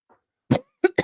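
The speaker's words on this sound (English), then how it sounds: "I put out a cough" A single person's cough, with a short throaty burst followed by two quicker coughing bursts, close and fairly clear, with no talking around it.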